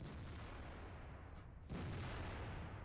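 A single heavy cannon blast from a Jagdtiger tank in a video game erupts partway through, sharp and loud, over a steady rumbling engine background.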